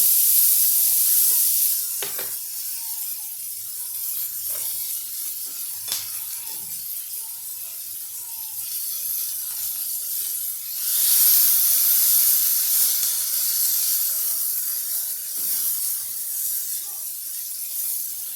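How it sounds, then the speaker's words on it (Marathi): Cabbage hits a hot pan for wheat-flour chowmein, a steady sizzling hiss with a few clinks of utensils, briefly surging louder midway and then settling into continuous frying. "आता आपण यात थोडा पत्ताकोबी घालूया"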